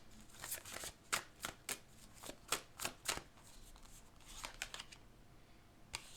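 Murder mystery tarot-style cards being shuffled, a run of crisp riffling bursts and snaps in irregular rhythm, close up and fairly quiet, with no talking.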